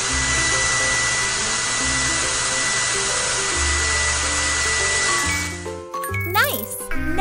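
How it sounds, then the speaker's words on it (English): A steady cartoon hair-dryer whoosh from the Panda Lu Baby Bear Care 2 game blows continuously over light background music, then cuts off into bright tinkling jingles. "Now let's use a hairdryer!"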